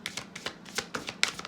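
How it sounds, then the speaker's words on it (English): Moonology oracle cards are shuffled close up in a quick run of crisp riffling slaps and flicks, about nine sharp bursts in a second and a half, with no talking. "Let's go ahead and pull some advice cards. So I like to use Moonology for the advice cards."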